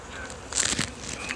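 Honey bees buzz around an open hive box during a colony inspection, a brief close swell of buzzing rising and fading over a second or so amid faint rustling.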